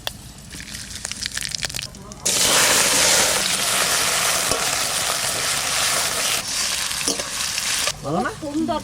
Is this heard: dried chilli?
yes